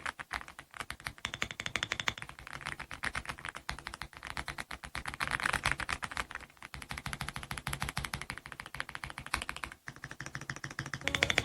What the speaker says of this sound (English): First, listen to the typing sound of this Reaper switch.